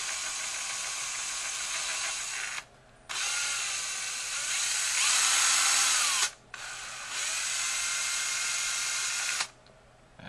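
A power drill hollows out a plastic pen body to make a touchscreen stylus, whining loudly in three long steady bursts separated by brief pauses, close up with no talking.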